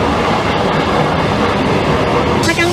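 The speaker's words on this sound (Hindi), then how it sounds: "ट्रेन सचमुच तेजी से चल रही है," An Indian Railways train running fast with its doors open, a loud steady rumble and clatter of wheels on track filling the whole stretch, with a brief higher squeal near the end.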